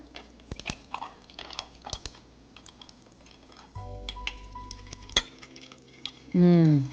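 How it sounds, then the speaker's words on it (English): Ice cubes dropped into a tea latte, giving a few sharp clinks and crunchy rattles against the glass amid soft handling noise, followed by a brief loud tonal burst at the end. "So I'm gonna cool this down real quick with some ice here."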